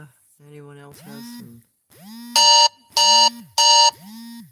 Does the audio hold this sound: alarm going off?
yes